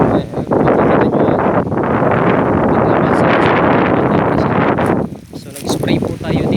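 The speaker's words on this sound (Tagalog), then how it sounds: "malakas ang hangin" Strong wind buffets the microphone outdoors in a mango orchard, a loud, continuous roar that dips briefly before gusting again, with a voice faintly under it.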